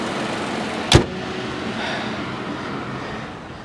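A Nissan 3.5 engine idles with a steady, muffled broadband rumble heard from close by, interrupted early by one sharp click or clunk, with no voices.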